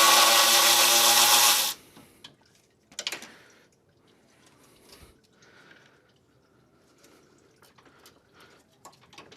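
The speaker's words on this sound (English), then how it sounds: "There's a 10mm fastener there that you can remove so that you have enough wiggle room to pull it out" A power tool whirs loudly for under two seconds, removing a 10mm fastener near the AC line of a Nissan 350Z, then goes quiet, leaving faint clicks and tool handling in the engine bay.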